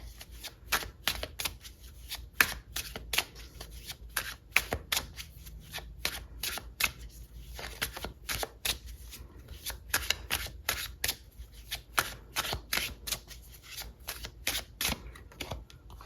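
Cards from a Teacup Oracle deck being shuffled close up, a steady run of crisp riffling slaps and flutters repeating over about sixteen seconds with no talk.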